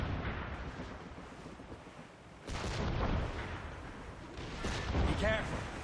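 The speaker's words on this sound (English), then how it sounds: "A few shots should be enough to cripple her." A sailing ship fires its cannons at sea in Assassin's Creed Rogue. Booming shots come in two heavy bursts over a constant rush of wind and ocean noise.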